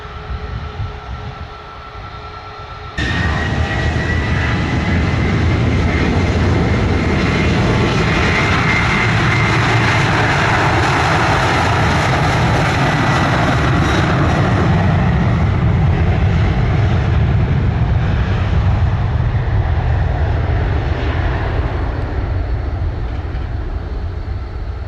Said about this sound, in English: Clear for takeoff, runway 25, wind 210 degrees, 7 knots